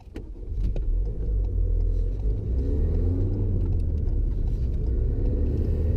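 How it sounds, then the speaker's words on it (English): A car engine restarted after stalling settles into a steady, close idle rumble with a low hum, following a short burst at the start. "get the car started quickly"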